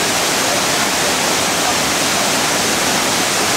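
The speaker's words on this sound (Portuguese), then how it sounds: "querendo chegar na cachoeira do Roncador" Roncador waterfall roars as a loud, steady broadband rush of falling water, continuous and close, with no pauses throughout.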